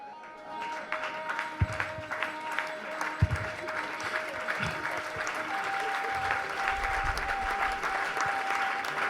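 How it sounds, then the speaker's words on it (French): A church congregation stands and applauds to acclaim the Lord, producing sustained dense clapping with a few loud thumps and a faint tone running under it. "On va se lever, on va acclamer le Seigneur."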